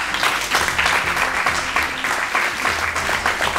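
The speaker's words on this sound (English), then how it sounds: "Whilst you are clapping," Lecture audience at a procurement lecture clapping steadily throughout, dense and sustained applause from a crowd with no speech over it.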